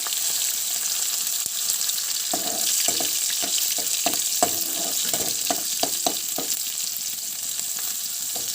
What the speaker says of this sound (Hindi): ये सब लहसुन आ मर्चीटा भाजी हो जावा